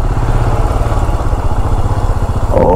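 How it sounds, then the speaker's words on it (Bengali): Motorcycle engine droning loud and steady while riding on a highway, a continuous close rumble with a slight rise in pitch near the end. "আমাদের তো বাইক, আমাদের লেফট সাইড দিয়ে নিয়ে নিচ্ছি"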